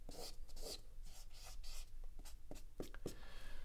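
A pen drawing an illustration on paper gives soft, close scratchy strokes, quick short lines and rubbing scrapes in an irregular rhythm, faint and alone.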